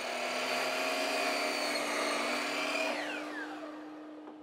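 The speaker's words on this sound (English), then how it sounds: "cut off the excess material" Power tool cutting off excess material from the corners of a wooden outdoor grill prep station base, a loud steady whining buzz that winds down as the cut finishes.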